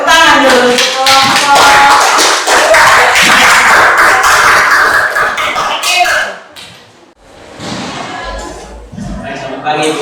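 Students clap in an Indonesian-language classroom, a loud cluster of close, sharp claps and taps over several seconds. The clapping quickly dies away, and voices and classroom noise follow.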